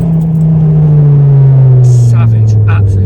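A modified 330 BHP Mk2 Ford Focus ST with a hybrid turbo idles with a deep, steady, loud engine drone, its pitch sliding slightly lower, while a voice talks over it.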